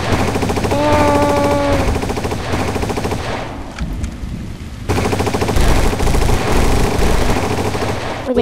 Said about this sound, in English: All this shooting has woken up the other gangs.